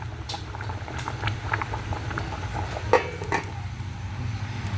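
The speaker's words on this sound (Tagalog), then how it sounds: "ito ang ating sinaing kumukulo na" A pot of rice boiling on the stove, a continuous bubbling simmer with a low rumble underneath and a few small metallic clinks.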